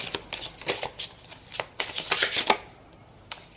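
Tarot cards are shuffled by hand in several quick riffling bursts, crisp and close, followed by a pause and a single soft flick near the end, with no speech.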